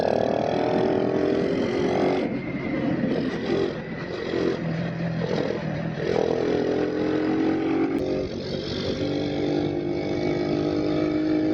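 Motorcycle engine drones continuously while the rider leans through curves, pitch rising and falling with throttle, loud and close with wind rush throughout.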